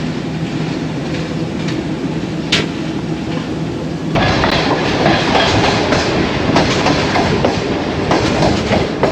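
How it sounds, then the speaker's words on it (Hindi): A Tezgam passenger train runs on rails into the yard at Lala Musa Junction, a loud steady rumble with rhythmic clickety-clack of wheels over rail joints that grows heavier partway through. "बहुत ही खूबसूरत लाला मूसा जंक्शन रेलवे स्टेशन के यार्ड में दाखिल हो गई है ट्रेन"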